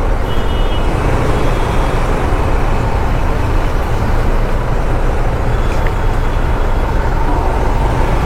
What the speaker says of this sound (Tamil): ஃபுல்லாக டிராஃபிக்காக இருக்குது